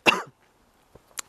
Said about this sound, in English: coughing a little bit